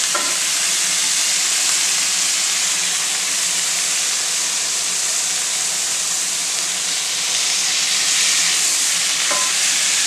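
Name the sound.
smashburger patties sizzling on high heat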